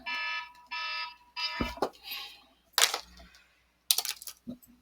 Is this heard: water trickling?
no